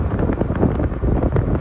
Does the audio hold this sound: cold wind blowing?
yes